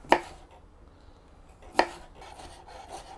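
A kitchen knife chops cucumber for a garnish on a cutting board: two crisp, separate strikes about a second and a half apart, then a softer third, close and clear with no talk.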